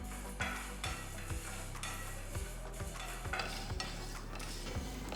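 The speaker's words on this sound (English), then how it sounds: "Roast the coriander seeds till you get a nice aroma and they've turned to a nice golden brown color." Whole coriander seeds dry roasting over medium heat in a pan, with a spatula scraping and stirring in a steady rhythm of regular strokes, a soft rustling crackle underneath, close and fairly quiet, no voices.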